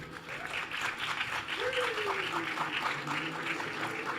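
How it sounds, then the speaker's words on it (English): Applause from an audience at a poetry event in a theatre, steady dense clapping with a voice or cheer rising through it midway. "Let's give them a round of applause."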